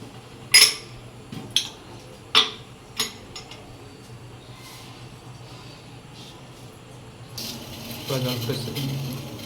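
Dishes being washed in a kitchen: several sharp clinks of utensils and pots come in separate knocks, then a tap runs with steady splashing water toward the end.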